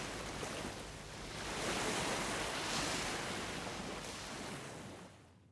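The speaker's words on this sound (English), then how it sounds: "the camera would cut to waves crashing against a beach" Ocean waves crashing against a beach, a broad roaring surf wash that swells to a peak midway and then recedes, with some wind noise and no voices.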